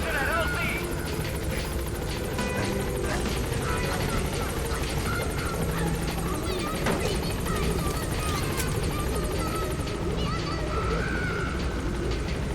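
Helicopter arriving in Metal Gear Solid V: The Phantom Pain, a steady loud rotor and engine drone running throughout, with a voice speaking over it.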